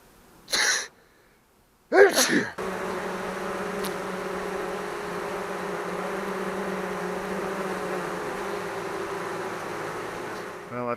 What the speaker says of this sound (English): and now I'm going to sneeze.